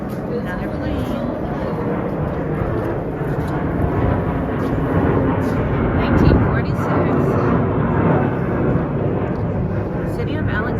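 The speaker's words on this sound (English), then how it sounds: "Another plane." A plane passes over Old Town Alexandria, Virginia, near DC, as a broad, steady rumble that swells gently toward the middle and then eases, heard through street ambience.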